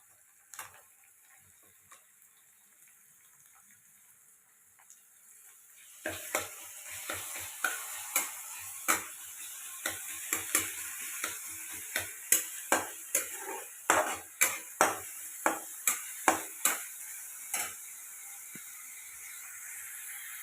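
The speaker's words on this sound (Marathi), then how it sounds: "मस्त परतून घेतोय मी." Cauliflower and tomato with onion are sautéed in a pan for pasta, a continuous sizzling hiss with a quick, irregular series of sharp spatula scrapes and taps against the pan that grows busier partway through.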